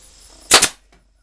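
An old staple gun fires once, a loud close snapping crack with a short doubled burst, then a faint click, while wooden three-frame beekeeping nuc boxes are being assembled.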